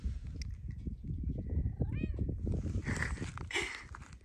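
A young kitten gives a short, rising meow partway through, close and fairly clear, with a couple of fainter mews after it, set against a steady low rumble of background noise.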